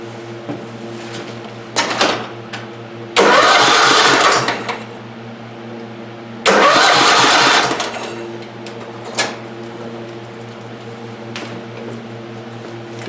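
A Kohler 16 engine on a Craftsman riding mower is cranked in two long whirring bursts of a few seconds each, loud and close. Short clicks come before and between them over a steady background hum.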